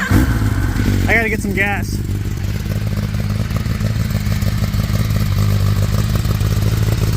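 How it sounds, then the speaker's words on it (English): A 2023 Kawasaki Ninja ZX10R with a dB killer fitted in its exhaust idles loud and close with a deep, throaty rumble and brief revs, while someone speaks briefly over it near the start. "So it just sounds really deep and throaty, even with the dB killer in."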